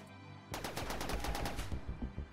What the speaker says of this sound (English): Why does it keep shooting?